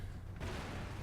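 Grenades going off in a war video game with Sherman and Pershing tanks, a brief muffled rumbling blast swelling at once into a dense, noisy roar, moderately loud.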